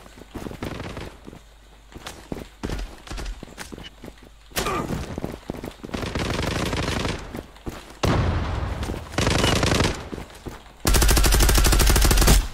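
Video game gunfire in bursts: rapid automatic fire and single shots crackle loudly, broken by short gaps, with the heaviest sustained volley at the end.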